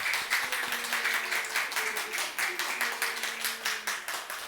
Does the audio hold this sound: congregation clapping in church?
yes